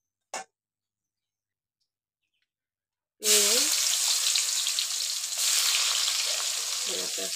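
Bitter gourd (karela) sizzles loudly in hot oil in a pan. A brief click and a few seconds of silence come first, then steady, close frying noise carries on to the end.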